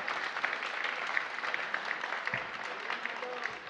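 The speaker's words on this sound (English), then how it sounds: "I want to give her a big round of applause." Audience applause at a DC Emancipation Day breakfast event, a steady broadband wash of many hands clapping that holds for the whole stretch at moderate level, with no talk over it.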